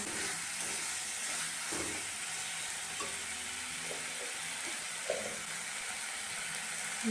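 Chilli powder, turmeric and other spices fry in a pan for chicken curry, giving a steady close sizzle and hiss, with occasional soft scrapes and stirs of a spoon and no talking.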